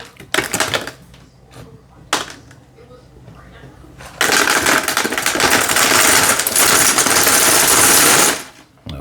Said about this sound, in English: I'm going to take all this and dump this in the bag